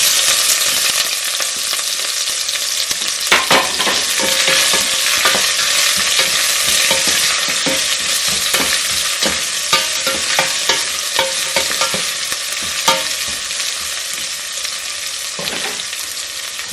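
Onion frying in hot oil in a pan while cooking Afghani chicken pulao, a continuous strong sizzle with repeated sharp crackles and light stirring scrapes, no voices.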